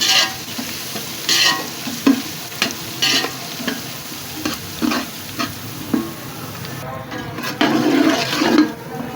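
Garlic ginger paste sizzles and spatters in hot oil while a spoon scrapes and stirs the pan in short, repeated strokes, close and steady.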